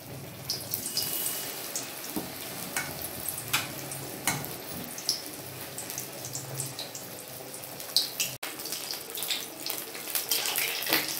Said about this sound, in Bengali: আমি এইভাবে ফ্রাইগুলো ভেজে নেব